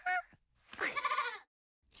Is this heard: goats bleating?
yes